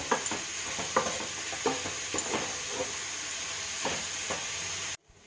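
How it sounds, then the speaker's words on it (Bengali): Onion and chopped tomato are stirred and fried in a pan without oil for a chicken dish. A close, continuous sizzle carries rhythmic scraping stirs, and the sound cuts off abruptly near the end. "আর দেব কুচিয়ে রাখা টমেটো এই দিয়ে আমি আবার ভালো করে একটু পেঁয়াজটা কষব"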